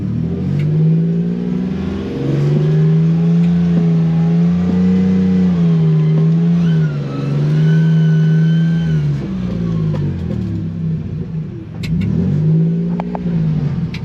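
A loud truck engine drones close by, its pitch stepping up and dropping as revs change through downshifts of a sequential transmission without engine braking, continuous for the whole stretch.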